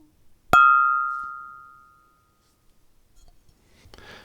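A coffee cup struck once, giving a bright ringing tone that fades out slowly over a couple of seconds, followed by a brief soft rustle.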